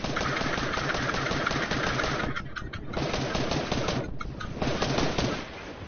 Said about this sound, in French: Je sais pas où, mais ça tire.